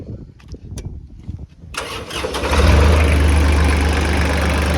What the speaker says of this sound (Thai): เครื่องเป็นเครื่องรุ่นใหม่แล้วนะครับ เป็นเครื่องที่สตาร์ท ไม่ต้องเผาหัวแล้วครับ เดี๋ยวติดเครื่องมาดูนะครับ